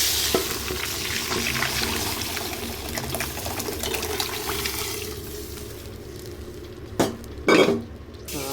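Curry leaves sizzle and crackle in hot oil for pappu charu: a steady frying hiss with faint stirring scrapes, fading slightly toward the end before two brief louder splashes or clatters near the close.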